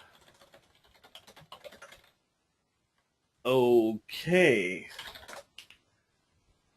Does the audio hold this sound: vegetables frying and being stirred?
no